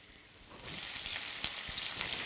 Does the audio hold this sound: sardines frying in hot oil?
yes